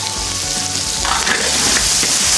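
Garlic and chili bean paste hitting a wok of hot lard with Sichuan peppercorns, a close, loud sizzle that surges brighter after the first second and keeps crackling steadily with no talk.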